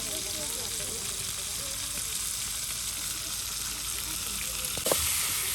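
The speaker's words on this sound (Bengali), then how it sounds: "জিরে ভাজবো" Cumin seeds fry in hot oil for a fish dish, a steady close sizzle that runs throughout, with a brief clatter of stirring near the end.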